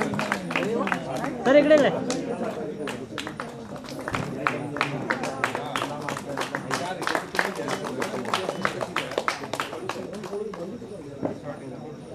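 Audience clapping at a Pune district carrom tournament prize ceremony, a burst of scattered hand claps from a crowd with people talking throughout.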